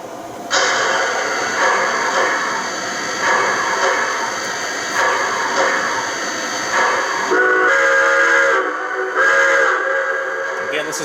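O-scale model train engine 4294, a 2005 locomotive with no startup sequence, starting up with a steady electric hum and rail-sound rumble, joined late by short whistle-like tones, close and continuous.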